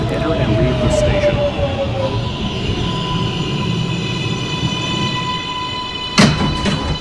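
A New York City subway 1 train of R142/R142A stock at the 215 Street station rolls steadily alongside the platform, with a continuous loud rumble, a thin high wheel whine that slides downward, and a sharp clank near the end.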